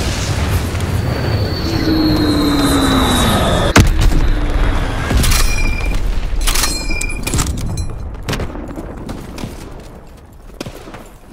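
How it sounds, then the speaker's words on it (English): Bomb blasts from a Blitz X strike in Call of Duty WWII roll through a dense wall of battlefield noise, with sustained loud rumbling, a falling whistle, sharp heavy booms around the middle and scattered bangs that thin out toward the end. "Dropping Blitz X bomb."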